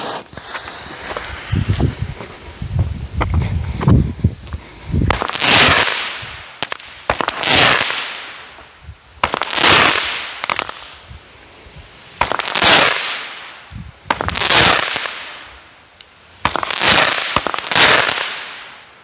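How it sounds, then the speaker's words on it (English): A Mad Hatter fireworks cake from Hot Fireworks fires in a rapid series of loud booming shots, each followed by a long crackling sizzle of crackling mines with blue tips, repeating about every two seconds outdoors. "Nice, crackling mines with blue tips."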